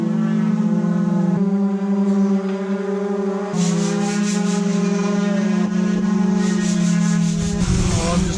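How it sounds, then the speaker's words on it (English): Sanding on a boat during a refit gives a loud, continuous grinding rub with strong steady tones, shifting in pitch and texture several times as the work goes on nearby, with no talking. "we'll have to do a dusting of everything because of all the sanding that's going on."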